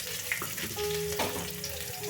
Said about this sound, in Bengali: রসুন কুচোটা এই ফোড়নটার সঙ্গে একটু সুন্দর করে ভাজা করে নিচ্ছি